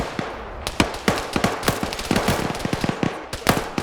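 Battle sounds from a military video game involving an RPG rocket launcher, with a rapid string of sharp gunshots and cracks, loud and close, and no talk over them.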